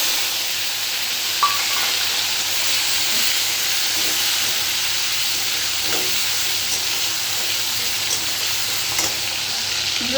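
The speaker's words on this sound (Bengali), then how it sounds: "এর মধ্যে দিয়ে দিচ্ছি আমি টমেটো।" Tomato fries in hot oil in a wok with bay leaf and cumin, giving a continuous, loud hissing sizzle up close, with faint stirring clicks now and then and no talking.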